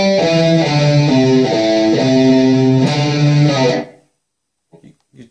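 A palm-muted electric guitar riff, played through a distorted effect in a chugging, rhythmic pattern of repeated notes, loud and close, ending abruptly followed by a couple of faint small noises.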